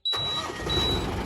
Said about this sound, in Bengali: ইঞ্জিন সাউন্ডও আপনারা দেখতে পেয়েছেন পুরো ইঞ্জিন সাউন্ড টাউন কেমন আছে